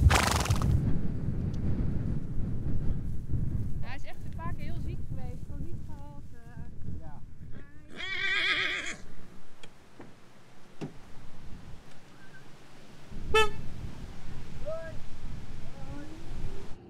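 A pony near a horse trailer whinnies in several wavering calls amid wind noise and outdoor rustling, with a sharp sharp snort-like burst later on.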